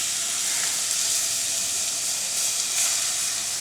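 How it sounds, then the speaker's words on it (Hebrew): Hot, smoking oil poured over a heap of spices and garlic for a spicy Korean carrot salad, giving a loud, steady hiss and sizzle with no talk. "ועל ההר עם התבלינים והשום אני שופך את השמן ממש"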